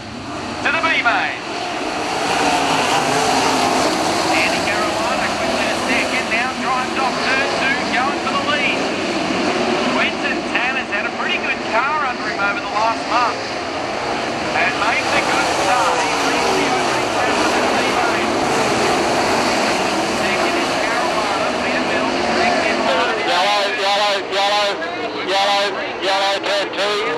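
Race cars at Avalon starting a 15-lap C main event, a loud continuous roar of many engines throughout, with an announcer talking over it and a few sharp throttle bursts near the end.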